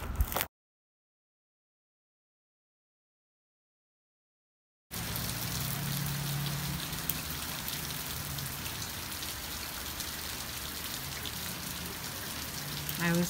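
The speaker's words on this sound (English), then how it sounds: "It's like flash flood out there." Heavy rain pouring down outdoors in Georgia, a dense, steady roar of drops on surfaces that starts suddenly after a brief silence and carries on loud and unbroken.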